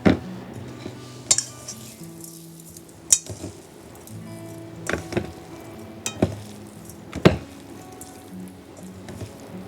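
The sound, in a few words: gently mixing seasonings into ground turkey for breakfast sausage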